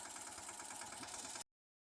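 A tractor engine runs steadily at a low, even idle-like throb, close and constant, then cuts off abruptly into silence partway through.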